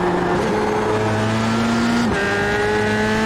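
Formula 3 race car engine in the iRacing sim at Okayama, a steady high-pitched drone holding pitch, then dipping sharply around a corner as the back end steps out before climbing again, with faint tyre noise underneath.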